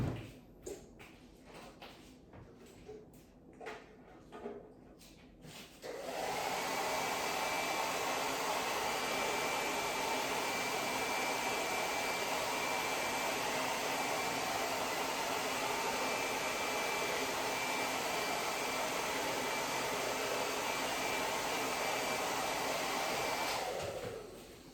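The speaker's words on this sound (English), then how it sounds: "I'm gonna go grab the hair dryer and blow it." A hair dryer blowing to dry a freshly painted craft piece, switching on after a few quiet handling clicks and running as a loud, steady, close whoosh for nearly twenty seconds before cutting off.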